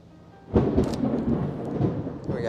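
Deep thunder rumbles and rolls for a couple of seconds with rain hissing steadily underneath, fairly close and loud, with no talking.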